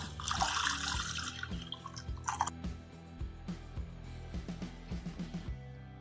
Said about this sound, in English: Now I'm going to add some water in this.